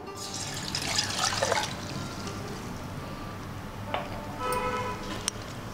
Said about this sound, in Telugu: ఇప్పుడు ఇందులో ఒక గ్లాస్ నీళ్ళు పోస్తున్నాం